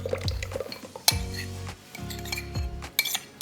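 Melted butter and white chocolate scraped into a KitchenAid mixer bowl, heard as repeated clinks and scrapes of a utensil against the bowl in short bursts, fairly close with no talk.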